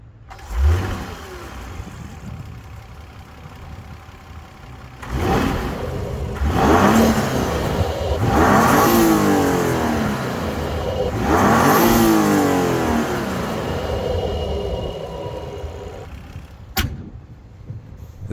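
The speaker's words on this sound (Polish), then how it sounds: "A na koniec jeszcze posłuchajcie, jak pracuje silnik" BMW X3 M50 G45 with a 3.0-litre inline-six petrol engine making 398 hp, idling and then revved in several rising, falling bursts, loud and close with no talk.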